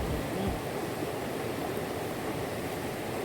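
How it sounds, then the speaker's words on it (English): Steady broadband rush of a river flowing beside an outdoor wood-fire cooking spot in Jamaica, with no talk, continuous and fairly even throughout. "See the river in our background."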